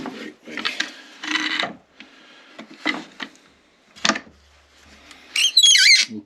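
Wooden clamps being fitted onto the tail block of a mandola body during a build, with a series of close scraping, rubbing and knocking sounds and a short squeak at the end.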